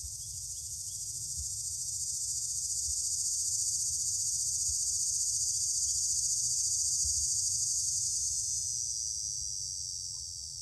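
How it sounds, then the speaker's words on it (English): Linnaeus cicada singing, a loud sustained pulsing drone with a vibrato-like waver that swells in the middle and eases slightly toward the end, heard alone over a faint low rumble. "Linnaeus cicada."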